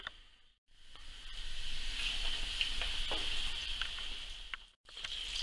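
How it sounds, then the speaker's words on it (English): Coated rabbit shoulders sizzle steadily in a shallow layer of oil in a pan, a close crackling hiss with small pops, briefly dipping as pieces are moved. "So I haven't got too much oil in the pan. I'm just going to do one half and then turn it over and do the other half."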